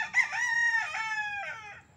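A white kelso rooster crows once, loud and near, a long raspy call that breaks into several drawn-out harmonic segments before tapering off.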